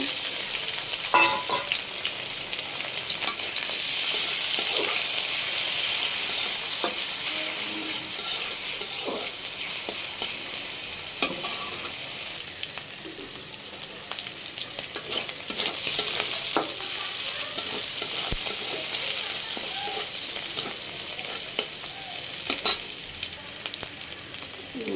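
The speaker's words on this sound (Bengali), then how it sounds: "পেঁয়াজের সাথে আমি চিংড়ি মাছটাও ভেজে নেব।" Shrimp and onion fry in a pan for a shrimp and potato bhuna, with a steady, dense sizzle and occasional scraping stirs of a spatula, all without talk.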